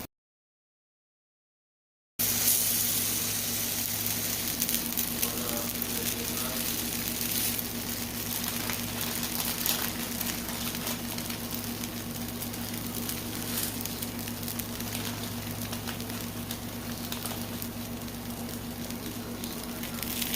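Bread sizzles steadily on a hot griddle, part of building pastrami-and-cheese sandwiches for a summer dinner, with a constant close frying hiss and soft crackle after a brief silent start and a low steady hum beneath.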